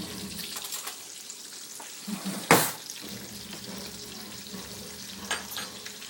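Seasoned, egg-and-flour-coated chicken frying in a pan, a steady sizzle with a sharp crackling burst midway as pieces shift, close up with no talk.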